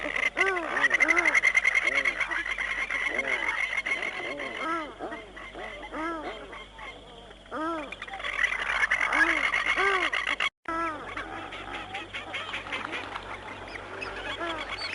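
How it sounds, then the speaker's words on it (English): Dense wetland chorus of grey teal ducks with repeated chuckling calls, many birds calling at once, fairly near, with a brief break before the calling resumes. "And there's the chuckling call of grey teal, one of the commonest sounds in our wetlands."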